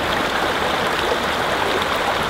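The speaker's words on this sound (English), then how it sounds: "This water usually isn't rushing this much" Rushing creek water in Delaware running higher than usual, a loud, steady broadband roar of flowing water heard up close without pause.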